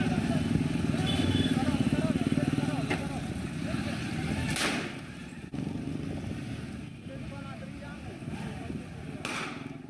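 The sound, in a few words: motorcycles on street with open gunfire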